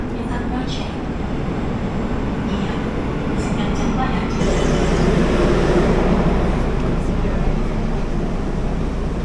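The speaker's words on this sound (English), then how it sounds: "And I think, yes, there's a train coming." A steady rumble of a subway train approaching a station in Seoul, growing louder midway, with station ambience and faint voices in the background.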